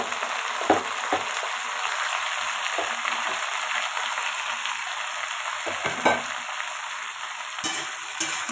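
Vegetables fry in hot mustard oil with five-spice, making a steady, fairly loud sizzle. Several sharp stirring scrapes and clinks from a spatula in the pan break it up, and no one speaks.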